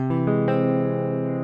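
A sustained guitar chord rings out, with a few soft plucks layered in as the notes hold and slowly decay.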